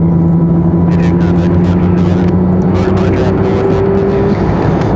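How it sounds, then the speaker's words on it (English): A Frontier airliner's jet engine spools up at Raleigh-Durham airport, heard as a steady whining drone with a rising tonal hum over broad roar, with faint intermittent clicks above. "Still starting engines for Frontier. That's what you guys are hearing now."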